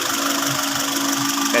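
A Honda BR-V engine idles after an oil change, giving a steady close mechanical hum with a constant low drone and faint rhythmic knocking underneath, loud and uninterrupted.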